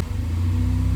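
A Ford EcoBoost engine idles unevenly right after its first startup following a full teardown, a steady close mechanical drone with a low pulsing throb and no voices.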